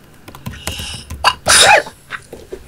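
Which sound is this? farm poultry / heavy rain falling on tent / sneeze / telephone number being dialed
sneeze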